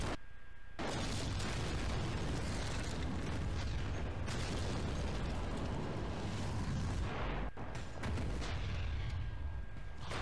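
A loud, sustained roaring explosion from The Walking Dead Season 9 rumbles on for several seconds after a sudden onset, deep and heavy, with a brief dip before it continues.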